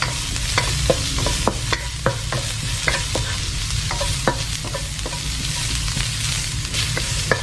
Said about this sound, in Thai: ผัดเครื่องเทศให้เหลืองหอมนะครับ